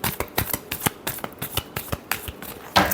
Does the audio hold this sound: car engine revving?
no